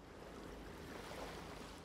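Ocean waves in the video game Yakuza 5, a faint steady wash of surf and water noise without distinct breaks.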